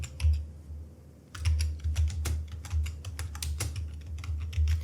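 Rapid typing on a computer keyboard, close and crisp, with bursts of key clicks and a brief pause near the start before steady tapping resumes.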